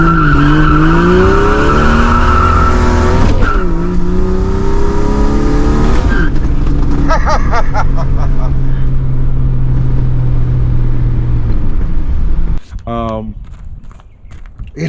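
A Jeep XJ engine breathing through a glass pack muffler runs steadily up close, a low rumbling drone with a few shifts in pitch, while someone talks over much of it.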